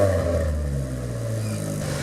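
A Mazda engine revving through an EVO exhaust, a close, loud, buzzy drone whose pitch climbs and settles over two seconds, with no talking.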